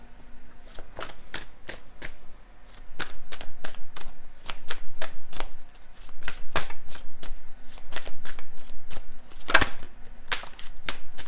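Tarot cards shuffled by hand close up, bursts of rapid riffling clicks and flutters repeating in loud rhythmic waves with short pauses between.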